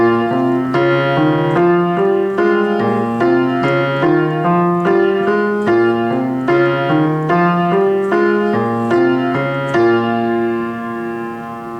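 Solo piano playing the right-hand part of a song, a steady melodic line of repeated chords and notes in even rhythm, close and clear for about twelve seconds, fading slightly at the end.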